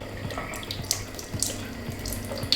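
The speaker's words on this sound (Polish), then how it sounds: "Wody nalewamy przez ten dziubek, także zróbmy to." Water pours in a steady trickle through the small spout of a cheap plastic gadget, a close, continuous running-water sound with a few soft knocks and clinks underneath, and no talking.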